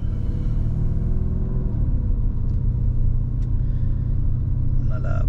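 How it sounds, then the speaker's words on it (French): A 650-horsepower Lamborghini Urus SUV with a twin-turbo V8, driven in sport mode, gives a steady, loud low engine rumble with road noise throughout, heard from inside the cabin. "Nous voilà partis donc pour faire quelques tours de roue à bord de ce Lamborghini Urus V8 biturbo 650 chevaux"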